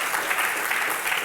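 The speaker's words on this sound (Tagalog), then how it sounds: "palakpak sa Panginoon" A church congregation claps together, a steady, dense burst of applause from a sizable crowd filling the room.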